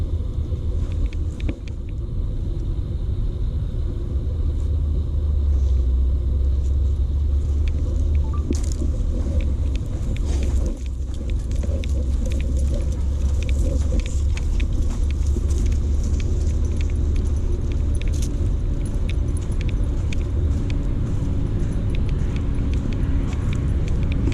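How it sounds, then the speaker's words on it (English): A loud FedEx delivery truck passing near a park in Oklahoma, a heavy low engine rumble that fills the whole stretch with some rattling on top, and no one talking. "FedEx truck. It's loud."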